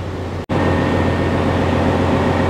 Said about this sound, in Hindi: ये हमारा मेन इंजन फ्रंट आगे से, ये मेन इंजन।